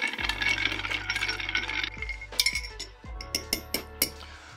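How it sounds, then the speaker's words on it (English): Ice clinks and rattles against a mixing glass as a Fig Manhattan cocktail is stirred, a busy close jingle at first, then a few sharp separate clinks toward the end, with no talk. "And then we'll take all of those and stir them until they're nice and chilled."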